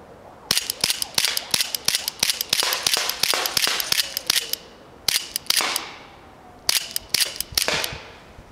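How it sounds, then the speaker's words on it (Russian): Gletcher CLT 1911 CO2 air pistol fired rapidly outdoors at a forest range, sharp loud cracks in quick bursts of many shots with brief pauses between groups. "Вот примерно так он стреляет очень быстро, но баллон сильно уж охлаждается."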